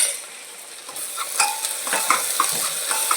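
Ginger garlic paste frying with onions in a pressure cooker, a steady hiss with bursts of sharp spoon-stirring clinks and scrapes, close and moderately loud, no voices.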